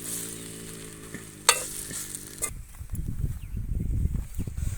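Bread toast poriyal is stirred in a pan over a faint frying hiss, with a sharp spatula knock and then a run of dense, close scraping and tossing sounds that build toward the end.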